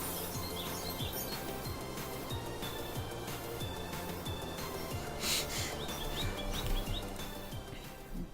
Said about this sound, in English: the birds wouldn't get so loud and start glitching in my ears